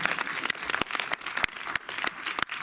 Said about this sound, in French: Là, nouveau tonnerre d'applaudissements.